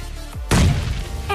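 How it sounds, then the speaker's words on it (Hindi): A grenade goes off in PUBG Mobile Lite, a single loud, close booming blast that cuts in sharply after a brief lull and rumbles heavily before tailing off. "और उसके बाद एक करते हैं ग्रेनेड"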